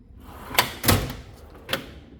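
A hammer drawer in a tool storage setup is opened and shut: three short knocking thuds, the middle one loudest and nearest, with quiet room noise between them and no talk.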